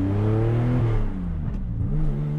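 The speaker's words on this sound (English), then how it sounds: "You can't beat the sound of an air-cooled engine. It's just so melodic, so beautiful." A restored 1980 Porsche 911 with an air-cooled engine, revving loudly up close, its pitch climbing and holding before easing back down and rising again, heard on its own without voices.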